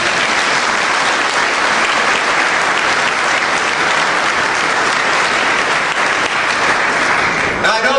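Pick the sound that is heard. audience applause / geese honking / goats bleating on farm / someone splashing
audience applause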